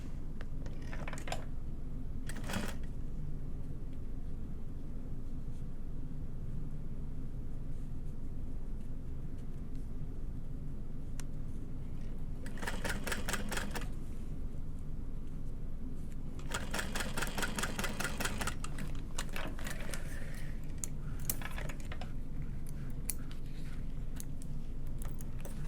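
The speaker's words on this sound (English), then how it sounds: "Now, while I'm top stitching this, nothing is going to move." Sewing machine top stitching fabric, steady low motor hum throughout with several bursts of rapid needle clatter, close and alone.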